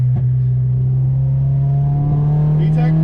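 Honda H22A engine in an EK chassis with nitrous revving up through VTEC, a loud sustained engine tone climbing steadily in pitch across the whole clip, close and continuous.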